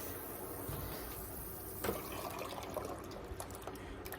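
Blueberry juice pours steadily into a pot, a soft continuous watery rush with a few clinks and splashes toward the end, fairly close.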